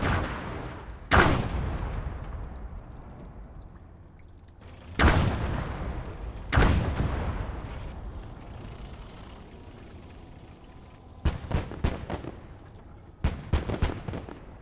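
Tank cannon fire in the WWII strategy game Gates of Hell: Ostfront, several heavy booming shots with long decaying rumbles spaced seconds apart, followed by quicker bursts of sharper reports near the end.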